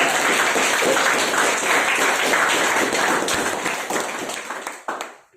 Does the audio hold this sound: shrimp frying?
no